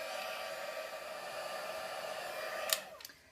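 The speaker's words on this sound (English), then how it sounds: "So now we'll bring in the heat tool." An embossing heat tool blows hot air in a steady, close whirring hiss over a stamped card. Its pitch holds constant, and near the end a couple of sharp clicks cut in as it is handled.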